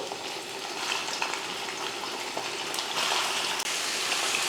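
Steady crackling sizzle of half a kilo of chicken frying in hot oil in a pan, with occasional stirring scrapes, close by and without talking.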